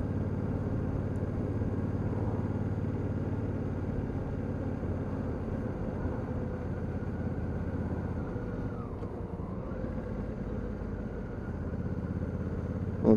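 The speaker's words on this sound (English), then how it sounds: "It has got the quick shift on it, so if I just touch the pedal like so, it blips the throttle." A 2019 Honda CRF1000L Africa Twin motorcycle runs steadily nearby, with a brief dip in engine pitch as the quickshifter blips the throttle and changes gear, and no one talking.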